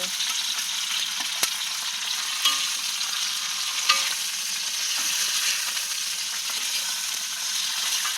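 String beans for adobong sitaw are sautéed in a pan over a wood fire, giving a steady, close, bright sizzle with a few sharp clacks of stirring.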